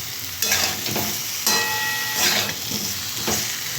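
Masala sautéing with ridge gourd in the water it releases, sizzling steadily in a pan with several scraping stirs, close and without talk.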